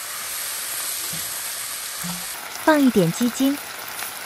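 Pork slices and colored peppers stir-fry in a wok with a steady, close sizzle. A voice briefly speaks over the frying near the end.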